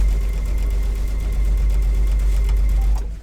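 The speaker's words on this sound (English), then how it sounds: "I'm just going to sew all the way down" A sewing machine stitching a Kimberbell spring garden flag runs at slow speed with a steady, loud mechanical whir and rapid rhythmic needle pulsing for about three seconds before stopping.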